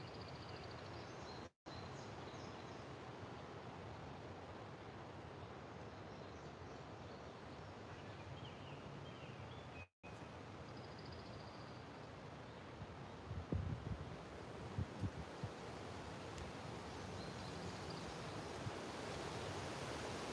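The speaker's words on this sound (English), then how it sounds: "Wind is picking up pretty good." Wind blows steadily outdoors by the water, a constant broad rushing roar with two brief dropouts and a few faint knocks near the end.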